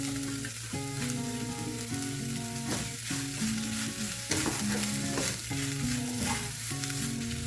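Onion sautéing in a pan for creamy chicken lasagna, a steady sizzle under a loud, repetitive melodic music track that dominates throughout, with no talking.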